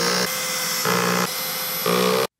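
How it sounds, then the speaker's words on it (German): A cordless screwdriver set to torque level 5 drives screws into an IKEA Kallax shelf, loud whirring bursts of motor noise in three pulses, alternating pitch as it runs and stops abruptly. "Ich verwende hierfür übrigens am liebsten einen Akkuschrauber, den ich mal auf die Drehmomentstufe 5 gestellt habe."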